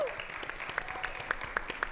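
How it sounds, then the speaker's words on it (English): Audience applause for a panel at a convention, steady clapping from a crowd heard up close, with a few louder individual claps standing out. "Give them another big round of applause."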